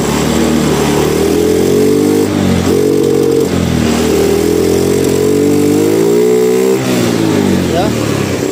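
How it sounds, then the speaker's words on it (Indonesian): Motorcycle engine after a piston ring replacement, loud and close, idling and revved with the throttle in rising and falling surges, over a voice speaking. "Gebir lah gasnya."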